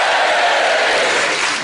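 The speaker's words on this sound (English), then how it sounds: "And a hearty cheer for Bill Bailey." Studio audience of a panel comedy quiz show cheering and clapping for a guest, a dense, loud wash of crowd noise filling the short moment with no voice over it.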